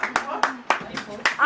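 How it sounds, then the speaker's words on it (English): Children clap during a birthday gathering after a Bible question, about five separate sharp claps spaced irregularly, with a voice speaking over them close by. "Clap for him."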